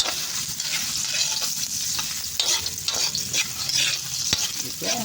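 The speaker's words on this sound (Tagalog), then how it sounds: "Nahin po muna natin ang luya." Ginger sautéing in a hot pan, with a steady close sizzle and frying crackle broken by repeated stirring scrapes, and no talk.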